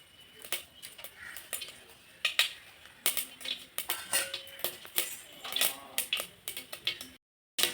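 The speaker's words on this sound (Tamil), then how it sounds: "கடுகு போட்டுக்கலாங்க கடுகு நல்லா புரியட்டும்" Mustard seeds splutter in hot oil in a pan, giving a quick irregular run of sharp pops and crackles, close and fairly faint, with a short silent gap near the end.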